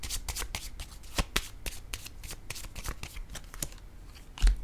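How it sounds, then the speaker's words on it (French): Playing cards being handled and laid down one by one onto a spread of cards, a quick series of crisp soft slaps and slides at close range, with a louder tap near the end and no talk. "je vais déposer une autre carte."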